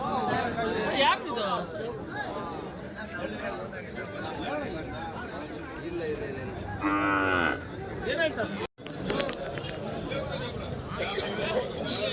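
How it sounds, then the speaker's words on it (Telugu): A cow calf mooing from a tempo at a weekly cattle market, one drawn-out moo rising clearly above the busy crowd chatter and people talking throughout. "ఈ టెంపోలో ఒకటి ఆవు దూడ అయితే ఉంది."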